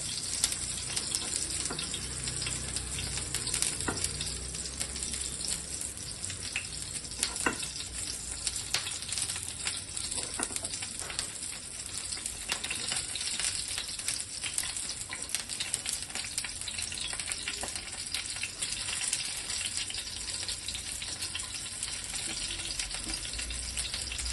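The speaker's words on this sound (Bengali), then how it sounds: "দেখুন তেলটা গরম আছে, তা আমি এই গরম তেলটা এর ওপরটা একটুখানি দিয়ে দেবো।" Hot oil is spooned over stuffed bitter gourd frying in a pan, giving a continuous crackling sizzle with scattered sharp pops and stirring noises, close and steady for the whole stretch without speech.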